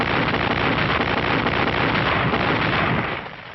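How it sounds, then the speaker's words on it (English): High-trajectory artillery firing during a warm February night duel, heard as a loud, dense, continuous rumble of blasts with no clear gaps between shots, easing off near the end. "when a high-trajectory artillery duel was on"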